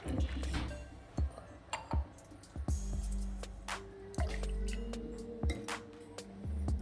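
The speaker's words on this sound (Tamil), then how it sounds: "நம்ம அரைச்சி வச்சுருக்க லெமன் ஜூஸ் இதில் ஆட் பண்ணிடலாம்" Blended lemon juice is poured into a lemon ginger summer drink with chia seeds, producing soft close drips and splashes with occasional light clinks of glass.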